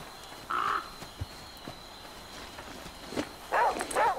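Crows caw in the survival video game The Flame in the Flood: one harsh call near the start, then two louder caws close together at the end, over a faint steady background.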